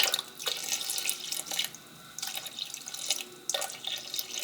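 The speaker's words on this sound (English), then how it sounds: "This is like warmish water, like tepid, not hot, room temperature, warm water out the tap." Warm tepid water running from a kitchen tap, a steady close splashing stream with small surges and sputters, no voices over it.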